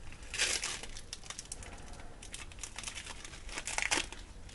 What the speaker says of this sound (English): Nicely peel the plastic off.